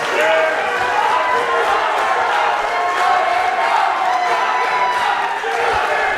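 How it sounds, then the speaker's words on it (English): Crowd at an independent pro wrestling event cheering, whooping and applauding in a packed building, a loud continuous roar of voices and clapping throughout with shouts rising above it. "Listen to this crowd. This crowd is just, the building is just moving right now, folks."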